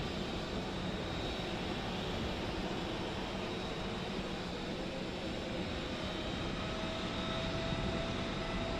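Airliner jet engines of the FlyByWire A32NX in Microsoft Flight Simulator, a steady broadband roar with a faint high whine, continuous and even throughout with no voices.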